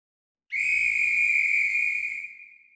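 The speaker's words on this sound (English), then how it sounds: "At 8:45, a whistle was heard" A single loud, steady whistle blast sounds alone, holding for about two seconds before fading, with a low rumble underneath.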